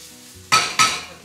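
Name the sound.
crepe pan heating on the stove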